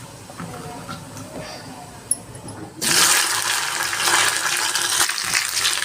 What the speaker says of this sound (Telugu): ఇప్పుడు బెండకాయలు మనము వేసేస్తాం.